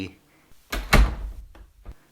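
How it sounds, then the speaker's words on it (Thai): The front door of a house swings open with a brief wooden clunk and thud, followed by a couple of softer knocks, close and short. "เสียงเปิดประตูบ้านของน้องหมอกดังขึ้น"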